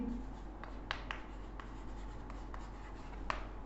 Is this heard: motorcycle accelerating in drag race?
no